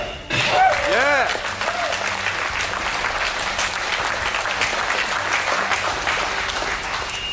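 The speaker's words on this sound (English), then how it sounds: "can I get an even bigger round of applause for America?" A crowd claps loudly and continuously at a charity weightlifting fundraiser for veterans, with cheers and whistles rising early over the dense applause.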